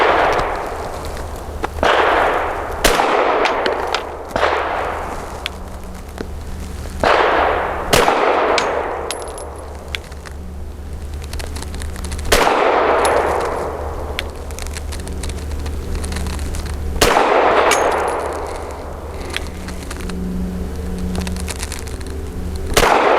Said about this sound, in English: 5 shots from 7 yards using the same Nosler ASP on the right circle square